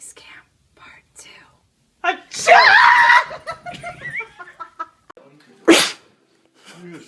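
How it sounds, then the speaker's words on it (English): A fake sneeze bursts out loudly in the middle of the clip, followed by a second sharp sneeze-like burst a few seconds later, with quiet whispering and murmured voices around them. "Fake sneeze cam part 2."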